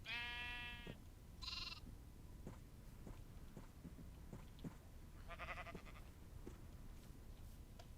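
Sheep on a video game farm bleat twice in quick succession at the start and once more a few seconds later, each call clear and close, with soft tapping steps and ambient hiss between them.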